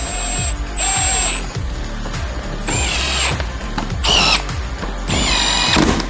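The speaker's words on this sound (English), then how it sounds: "I'm just going to take our drill and tighten these down back into place." Power drill tightening bolts on a Ford Maverick truck, loud repeated whirring bursts with ratcheting clicks, close and alone.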